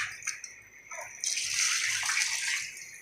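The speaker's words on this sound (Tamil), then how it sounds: "தண்ணி ஊற்றிக்கலாம்." Water poured into a pressure cooker holding country chicken and rice for biryani, a steady close gushing pour that swells and runs continuously for a few seconds.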